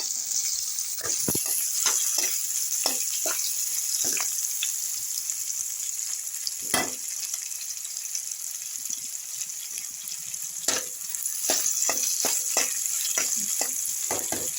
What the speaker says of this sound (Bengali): পেঁয়াজটা একটু দেখো ভাজা ভাজা হয়ে গেছে